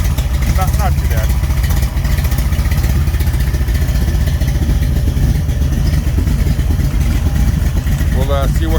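A stroked Mopar small block (Scat 408 with ported Speedmaster heads, hydraulic roller cam) runs loud and steady, its noisy adjustable rockers clattering over a deep continuous rumble throughout.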